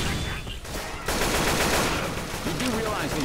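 Gunfire in the zombie shooter Left 4 Dead 2 on The Parish campaign: dense, continuous rapid shooting filling the scene, loud and close, with a brief lull before it resumes, and voices faintly in the mix.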